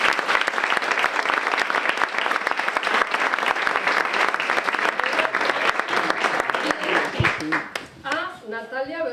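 Loud, sustained applause from an audience at a children's literature event fills the room, then fades out as a voice begins speaking.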